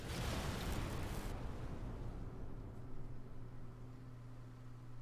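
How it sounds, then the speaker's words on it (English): A defeated boss named Rao blowing up in the video game Chained Echoes: a loud, dense rumbling blast that cuts off after about a second, leaving a low droning tail. "He's gonna explode."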